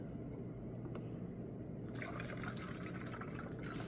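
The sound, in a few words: pouring leveling thinner through a funnel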